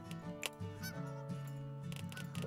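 Geese honking in the zoo-building video game Let's Build A Zoo, a few short nasal honks over a busy game soundtrack, fairly clear and close.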